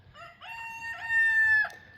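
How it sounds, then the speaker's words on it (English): A young rooster named Rufio on a small farm gives one full crow, a rising, stuttering call that ends in a long, clear held note, close and loud over a faint low background. "I talked right over this little guy's rooster crow."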